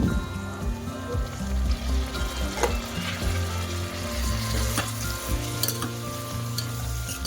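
Onions and green chillies frying in oil in a pan for coconut rice, a loud, continuous close sizzle with faint clinks of stirring and no voices.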